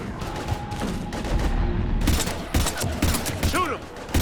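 Gunfire in the video game Mass Effect Legendary Edition, bursts of rapid automatic shots mixed with loud impacts and mechanical clatter, with shouted voices partly under the battle noise.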